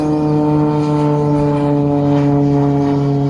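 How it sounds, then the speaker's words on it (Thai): A low-flying propeller airplane passing overhead near a botanical garden in Rayong, Thailand, a steady loud droning hum with strong stacked tones, constant for a few seconds with no talk. "สวัสดีเครื่องบิน"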